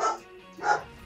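A dog gives two short, close barks about half a second apart, with no other sound around them.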